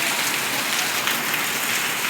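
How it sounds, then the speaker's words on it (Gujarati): Heavy monsoon rain pouring down in a Gujarat village, a dense, even hiss of drops striking surfaces that stays constant and loud throughout. "જુઓ મિત્રો, કેટલો વરસાદ આવે છે।"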